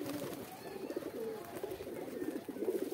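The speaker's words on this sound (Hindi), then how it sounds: "यहाँ बहुत सारे कबूतर उतर चुके हैं" Soft, repeated cooing from several pigeons close by, a steady low murmur of overlapping calls with no talking.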